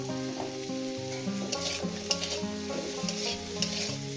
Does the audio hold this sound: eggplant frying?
yes